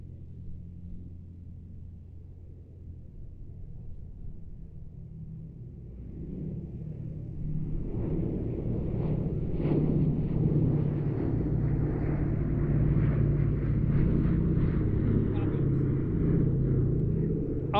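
A Boeing B-17G bomber approaches at an airshow with a deep, swelling four-engine piston rumble that grows louder and stays heavy, with a commentator speaking over the engine drone.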